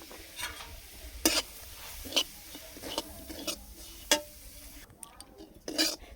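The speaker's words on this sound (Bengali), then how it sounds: "এই কড়াইয়ের মধ্যে কিছুটা তেল দিয়ে এবারে আমি সুজিটাকে ভেজে নেব।" Semolina frying in oil in a wok for halwa, with a soft sizzle under repeated scraping strokes of a spatula against the pan, spaced about once a second, close and fairly quiet.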